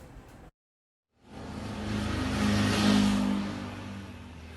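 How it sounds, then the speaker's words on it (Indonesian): A motorcycle with a loud, modified brong exhaust, seized in a police raid in Garut, breaks a short silence with a throaty rev that swells, holds loud near the microphone and slowly eases off, with no talk. "Sebanyak ribuan sepeda motor yang berknalpot bising disita jajaran Polres Garut."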